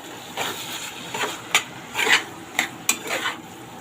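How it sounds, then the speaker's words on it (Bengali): Fish fried and stirred with spices in a pan, the spatula scraping and clinking against the metal in irregular strokes over a soft, constant sizzle. "এবার ভালোভাবে কষাচ্ছে ওই মশলার সাথে মাছগুলো"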